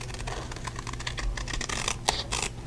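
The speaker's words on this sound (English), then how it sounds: "just come in with your scissors and just trim around" Scissors snip and trim around a card envelope flap, quick small crisp cuts and scratchy paper rustles heard close up and quietly, with no voices.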